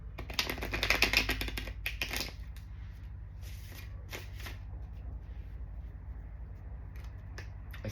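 Tarot cards being shuffled up close: a dense, crisp riffling burst for about two seconds, then softer, scattered flicks and taps of the deck against a quiet background.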